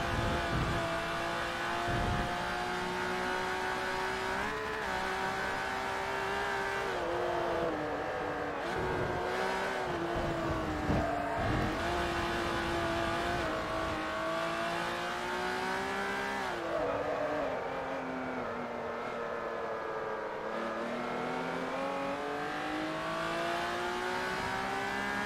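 Race car engines in Forza Motorsport 3, a steady, loud engine drone that climbs and drops in pitch as the cars accelerate and shift gears, running continuously for the whole stretch.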